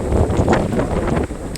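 Wind gusting outdoors at a picnic spot, a steady loud rumble of buffeting against the microphone with a slight dip near the end.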